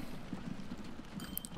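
An American horse cart in the train-and-road building game Transport Fever, its hooves clip-clopping in a soft, steady patter at low volume, with light mechanical ticks near the end.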